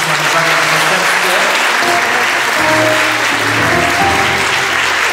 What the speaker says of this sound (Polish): Brawa gorąco dla niego